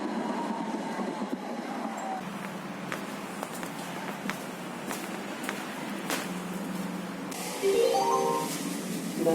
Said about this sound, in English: along to the next type of tram, which is a slightly different looking Skoda tram